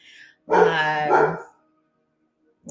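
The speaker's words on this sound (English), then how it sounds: "My dog's barking at nothing, I'm sure." A pet dog barks indoors, interrupting a live podcast recording: one drawn-out, strongly voiced bark lasting about a second, close and loud, followed by a short faint sound at the end, with no speech over it.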